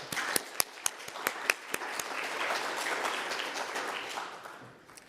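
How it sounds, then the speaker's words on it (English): A conference audience at a rail symposium in Paris applauds a panel: a few sharp, close individual claps at first, then fuller crowd clapping that swells and tapers off near the end. "If we can give them a round of applause."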